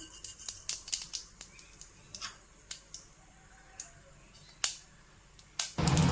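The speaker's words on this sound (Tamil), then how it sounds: "கடுகு நல்லா பொரிஞ்சிருச்சு" Mustard seeds splutter in hot oil in a kadai: sparse, sharp pops and crackles at irregular intervals, close and fairly faint, with a louder burst of sizzle at the end.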